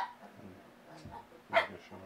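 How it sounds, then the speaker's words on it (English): A dog gives a few short barks and yips, with one louder bark standing out, fairly close by. "Sorry about my barking dog."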